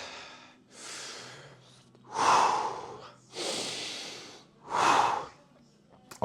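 Five heavy, breathy exhalations and inhalations from a person resting between weightlifting sets, alternating in slow rhythm, close and fairly loud with a rough, snorting edge on the stronger breaths.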